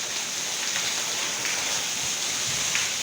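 Heavy rain pours steadily onto a village, a dense, continuous hiss with no pauses, close and loud throughout with no voices over it.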